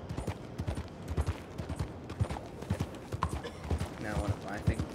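Horse hooves clip-clopping at a steady riding rhythm in the Red Dead Redemption 2 video game, mixed with voices of townsfolk calling out greetings over the hoofbeats.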